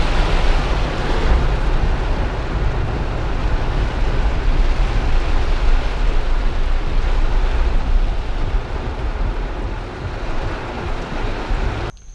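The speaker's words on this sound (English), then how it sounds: "I am not joking about the rain here in Florida" Heavy rain in Florida pours down as a dense, steady broadband roar lasting the full twelve seconds, loud and close with no voices.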